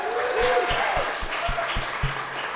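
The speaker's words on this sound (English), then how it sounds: "Another round of applause." Crowd applause at a live podcast event at a San Antonio progressive party, sustained clapping with a few low thumps and a voice carrying over the top.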